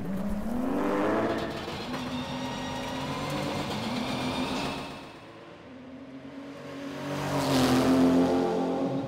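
Singer ACS all-terrain competition Porsche 911 driving, its engine a steady loud drone that dips briefly mid-clip then swells again as it accelerates past close by.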